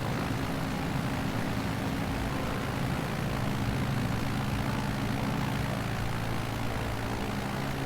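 A steady propeller aircraft engine drones through a climb in Microsoft Flight Simulator 2020, played on Xbox Series X near Bathurst, a constant mid-level hum with no pauses and no talk.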